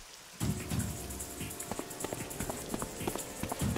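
Steady rain falling on a garden in the video game AI: The Somnium Files, joined by a quick run of footsteps that pat through the downpour at close range.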